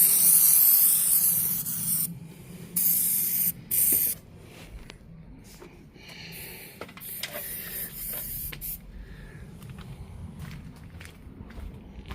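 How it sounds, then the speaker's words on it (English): Aerosol sealant hisses from a spray can onto a Saab 9-3 Convertible, one long loud burst followed by two short sprays, then quieter rubbing and shuffling movement. "I think with aerosol you've got to try and keep it at 90 degrees so get more out of it"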